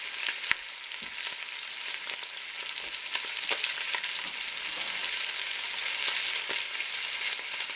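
Steady, bright sizzling of chicken pieces searing in a pot before braising, with occasional sharper pops and crackles over a constant hiss.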